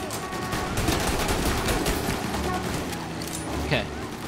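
Rapid gunfire from a 1930s-style crime shooter, Mafia: Definitive Edition, rattling in dense bursts under excited talk from a player urging others on.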